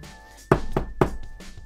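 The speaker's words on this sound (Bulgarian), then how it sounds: "Отново се чука на вратата ми." Three sharp knocks on a door land close and loud, evenly spaced, with a faint fourth tap after them over a quiet room hum.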